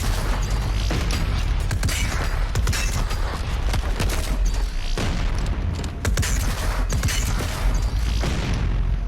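Weapons firing in a video game, a dense run of loud booms and blasts with rumbling low end and mechanical clatter throughout, no talk.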